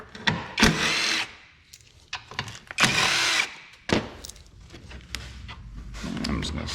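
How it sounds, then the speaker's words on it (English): Bursts of a power tool spinning off 10mm bolts beneath a Toyota Camry during radiator replacement, several short whirring runs separated by pauses, close and loud, with a person talking in between. "we're just gonna go ahead and remove these 10mm bolts"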